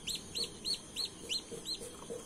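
Hen clucking on a backyard Thai village chicken farm, beside a clutch of eggs she refused to brood; six short, evenly spaced clucks in a steady rhythm, close and clear, with no talk.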